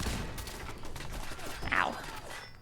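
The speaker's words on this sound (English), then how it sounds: "Guys, there's too much bullets right now." Rapid gunfire from the video game Fallout 4 crackles in dense overlapping bursts throughout, with a louder volley near the end and no clear speech over it.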